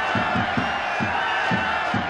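Stadium crowd in the Winning Eleven 97 football video game keeps up a steady broad roar of booing, continuous and fairly loud over the full stretch without a break.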